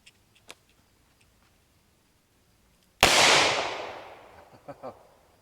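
A single loud .38 Special revolver shot fired limp-wristed, sharp crack then a long decaying boom outdoors after near-silence, followed by a couple of faint clicks.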